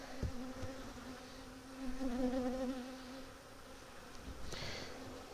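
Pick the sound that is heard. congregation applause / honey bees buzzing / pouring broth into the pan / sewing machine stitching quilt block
honey bees buzzing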